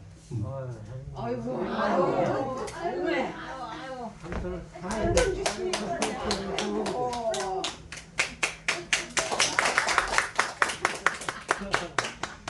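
During a Sunday church service, someone talks for several seconds before the congregation breaks into brisk, rhythmic clapping that grows denser and louder, close and continuous through to the end.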